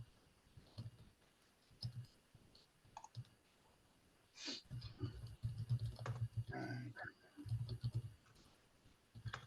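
Keystrokes on a computer keyboard as an item number is entered into pawn shop software, scattered clicks and short bursts of tapping, fairly close, with a low murmur of background sound between them.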